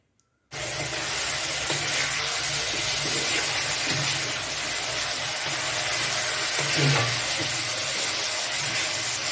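Rice with sautéed vegetables and sugar stir-fried in a pan at home, a steady close sizzle and hiss from the pan running throughout with a few soft scraping stirs.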